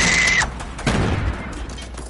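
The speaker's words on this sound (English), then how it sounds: "Ah, they're shooting at me!" Video game gunfire bursts out in a short volley, with a sharp high whine cutting off early and then a louder thudding blast that rolls on as a noisy rumble.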